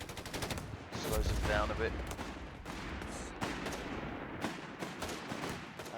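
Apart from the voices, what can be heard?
30 cal machine gun fire in video game Company of Heroes 3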